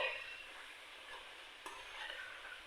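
Chicken pieces fry in hot oil for a homemade chicken karahi, a soft steady sizzle with light stirring scrapes and one brief tap, faint and even throughout.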